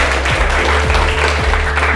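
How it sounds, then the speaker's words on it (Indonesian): Group applause in a classroom after a student's presentation, steady dense clapping from several people filling the whole moment without voices. "Kita aplaus dulu untuk"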